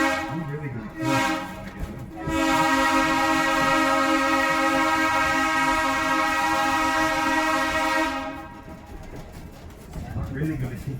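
A train runs along rails, its horn sounding loud and sustained for several seconds over a steady rumble, with the rolling noise continuing before and after the blast.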